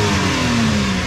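A 1993 Mitsubishi Bravo kei van's engine revs loudly and close by, holding a steady rising note with a buzzy, mid-pitched drone and no speech over it.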